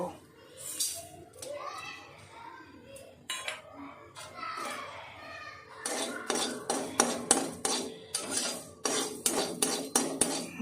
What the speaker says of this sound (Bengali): পাঁচফোড়ন আট চামচ মৌরি আর দুটো শুকনো লঙ্কা আমি একটু শুকনো খোলায় দু থেকে তিন মিনিট নেড়ে চেড়ে নেব